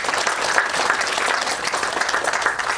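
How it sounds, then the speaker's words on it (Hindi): Dense, continuous applause from an audience in a Hare Krishna temple in Potomac, Maryland, a close, even wash of many hands clapping with no voices over it. "जोरदार ताली बजाएं।"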